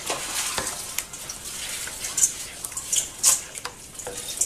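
Eggs being mixed into sausage gravy in a frying pan, with steady close sizzling and scattered scraping and clinking of a utensil against the pan, no voices.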